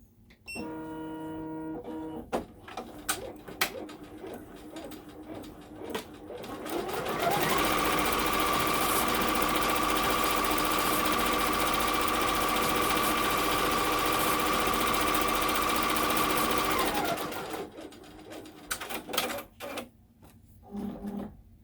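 An embroidery machine stitches shingle details with a steady, rapid mechanical chatter that runs unbroken for about ten seconds, with quieter handling clicks before and after.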